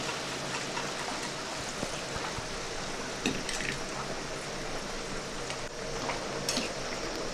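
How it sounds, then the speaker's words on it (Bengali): Boiled chickpeas tipped into frying spice masala in a pan, giving a constant close sizzle and bubbling with occasional light scrapes and clinks. "কাবলি ছোলাগুলো ওই মশলার মধ্যে ঢেলে দিচ্ছি।"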